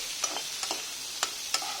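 Onions frying in leftover chicken oil give a soft, steady sizzle, with a few sharp scrapes of a stirring spoon against the pan. No one speaks.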